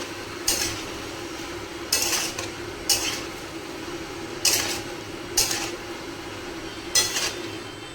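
Potato and ridge gourd are stirred in a kadai, six sharp metallic scrapes and clinks of the spoon against the pan, spaced irregularly over a quiet background hiss.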